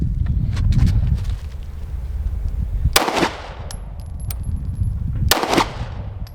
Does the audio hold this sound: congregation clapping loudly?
no